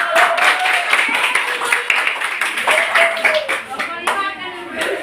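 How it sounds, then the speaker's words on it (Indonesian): Schoolchildren clap in a primary classroom, a steady patter of many small hands running throughout, with children's voices and an adult speaking over it. "Tepuk tangan dulu untuk kelompok"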